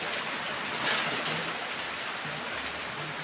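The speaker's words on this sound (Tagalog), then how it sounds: "Lakas ng ulan, no? Bagyo na." Heavy typhoon rain pours steadily as a dense, constant hiss, with a faint low rumble that could be distant thunder.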